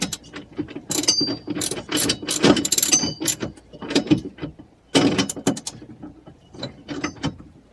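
A wrench tightening a bolt on a motorcycle steering assembly, a close series of sharp ratcheting clicks and metallic clanks in uneven bursts, with no talk.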